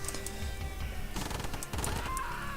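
Rapid bursts of machine gun fire from massed units in the real-time strategy game C&C Remastered, a dense continuous crackle of overlapping shots with no voices.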